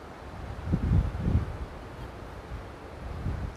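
Low rumbling surges of fairly calm waves washing in at Sundak or Sadranan beach near Yogyakarta, heard from a limestone cliff, mixed with wind buffeting the microphone, a couple of swells rising and fading.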